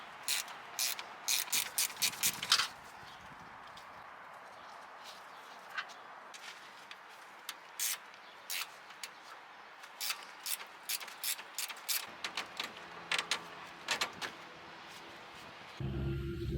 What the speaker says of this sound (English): Undo the 10mm bolt securing both radiator and the AC condenser in place.